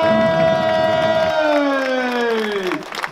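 At the Punta Bagna Courchevel 2022 award ceremony, the crowd cheers with a loud, drawn-out whooping call that slides downward over a few seconds, backed by a busy layer of clapping and shouts.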